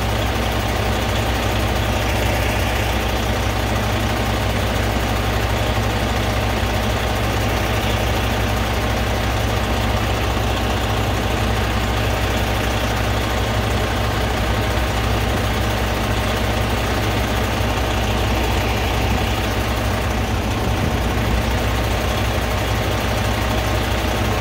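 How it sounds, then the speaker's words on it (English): A Kawasaki 900 motorcycle engine idles steadily and loudly nearby, with an even low rumble and constant mechanical patter and no break over its length. "I'm on a Kawasaki 900."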